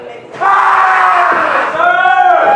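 A wrestler lets out a loud, sustained guttural scream at referee Matt during an alley fight match, a raw bellowing voice held for about two seconds over crowd noise.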